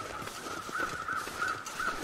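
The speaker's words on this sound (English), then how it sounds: "I can hear crows out here." Four faint crow caws in the video game The Long Dark repeat at an even pace over a low, steady background hum, sounding distant.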